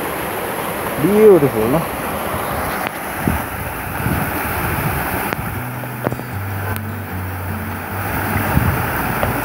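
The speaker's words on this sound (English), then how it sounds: "As a result of heavy pressure, water spread out like a shower." Water sprays out under heavy pressure like a shower at an outdoor spot in Sri Lanka, a steady rushing wash mixed with wind buffeting; a voice speaks briefly and some low tonal hums come in near the end.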